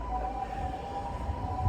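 Ambulance siren passing outside, a steady wailing tone held under low rumbling background noise, fairly clear throughout the short stretch.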